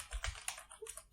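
Code is typed on a computer keyboard, a short soft burst of close keystroke clatter with no talk.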